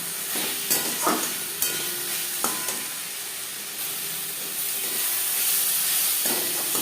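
Onion and tomato fry for butter chicken in a pan with a steady hiss and sizzle, punctuated by sharp clinks and scraping strokes from stirring, close and even, with no talking.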